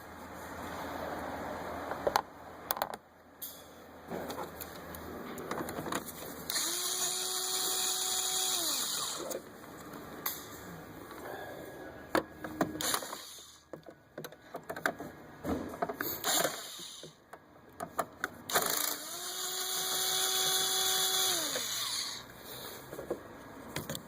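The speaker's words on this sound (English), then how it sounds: "Just using the 1/4 inch gun." Quarter-inch impact gun with an extension and 10 mm socket working bolts loose under a 2014 Kia Soul during a transmission fluid change, giving two rising, whining bursts of rattling hammering amid shop clatter, fairly close.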